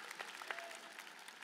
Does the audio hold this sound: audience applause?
yes